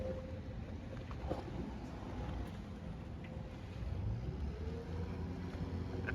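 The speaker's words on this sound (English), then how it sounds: "watching the water taxis come in and out" A water taxi engine hums low and steady on the water at Universal Studios Orlando, with wind noise on the microphone and faint background activity throughout.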